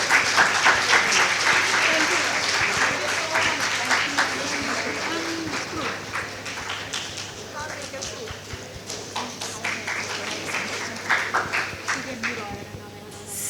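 An indoor audience applauds in a dense, continuous burst of clapping that starts loud and slowly thins out, with some rhythmic clapping near the end.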